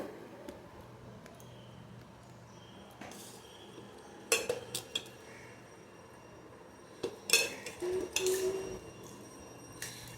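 Rice being served onto a plate beside a home meal, with soft scraping under quiet room tone and a few sharp clinks of dishes and utensils, the loudest bursts near the middle and end.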